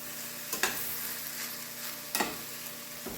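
Green chile is stirred into a sizzling New Mexican green chile enchilada sauce, a steady bubbling fry with two or three distinct scraping stirs.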